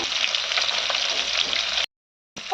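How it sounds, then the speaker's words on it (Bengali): Rohu fish frying in a pan for a Bengali lunch, a loud steady hiss and sizzle close up that cuts out abruptly, then returns briefly. "তো মাছটা হচ্ছে এখন ভাজা"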